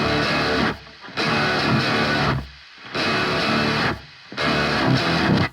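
A distorted electric guitar chugs single-note rhythm figures through a LABOGA DS amp sim, four dense, loud bursts separated by tight muted stops.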